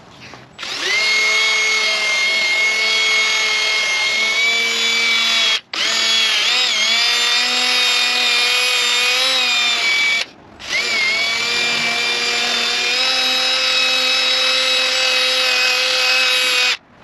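A power sander with a fine-grit disc working a Saab 9-3 headlight, a loud steady high whine in three long runs separated by brief pauses, close up and with no talking.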